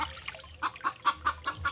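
Repeated chicken clucks, about six short bursts in steady rhythm, fairly close, over a low background hum and faint trickle.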